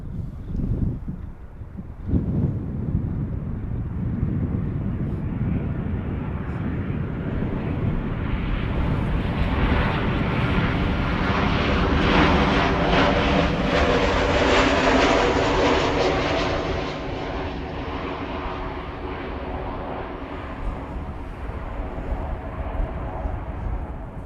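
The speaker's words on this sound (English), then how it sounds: "KLM flight 749, arriving from Cartagena," KLM airliner arriving at Amsterdam Schiphol, its jet engine roar swelling to a loud, sustained rumble with a broad rushing hiss, then slowly fading, with wind buffeting the microphone throughout.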